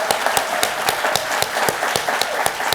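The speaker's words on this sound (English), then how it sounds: "a round of applause for Gary Brantley" An audience applauds speaker Gary Brantley at the close of his talk, with a moderate round of clapping and a few sharper individual claps standing out on a steady rhythm, at a medium distance.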